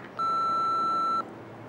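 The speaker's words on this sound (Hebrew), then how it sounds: "השאיר הודעה אחרי הביפ" A single steady electronic beep, loud and clear, lasting about a second over faint background hiss.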